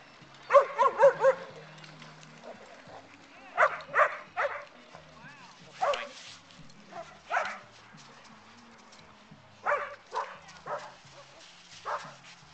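Marley the dog swims and gives clusters of short barks and yips mixed with whimpers, coming in bursts with pauses between them, under a voice that talks along.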